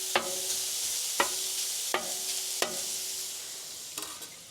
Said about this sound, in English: Let's put some bacon on this griddle. Get some nice bacon grease on this thing.